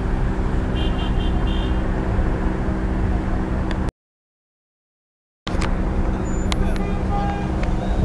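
Road traffic noise hums inside a Dubai traffic jam near the Burj Khalifa: a constant low rumble of cars with faint tonal toots. The sound cuts to silence for about a second and a half, then resumes. Voices murmur faintly underneath.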